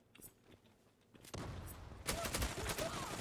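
Shotgun blasts ring out in the online shooter Zula, a few sharp reports and clattering bursts rising out of quiet game ambience, growing louder toward the end.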